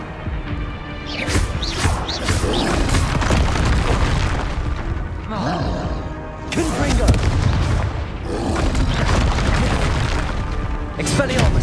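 Incendio fire spell cast in Hogwarts Legacy on PS5: dense, loud booming blasts and crackling bursts of fire and combat effects, layered over game music, continuous with brief dips.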